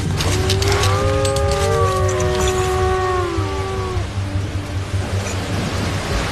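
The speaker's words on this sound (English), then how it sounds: "You just hear a wolf howl. Did you hear that?" A wolf's long, wavering howl rises and falls over roughly four seconds in Bulgaria, with steady rumbling wind or rain noise underneath, fairly distant.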